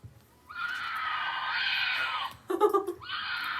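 A horse neighs in a loud, sustained whinny that rises and falls, breaks off into a short rough snort-like burst, then starts a second whinny that runs to the end.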